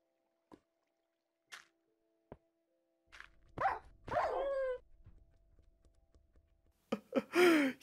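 Minecraft dog in the video game, with a few sparse clicks and taps leading into short barks and whimpering yelps, then a final louder burst of yelping near the end, with no speech over it.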